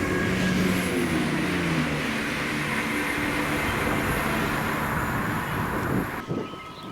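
Train 1A69 from Glasgow Queen Street to Inverness, hauled by locomotive 17406, passes at Monifeith as a loud, sustained rumble with engine drone and wheel noise that eases off toward the end.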